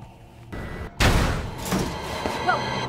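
A loud close gunshot cracks out in Resident Evil 2, followed by a few further shots and echoing noise fading behind it.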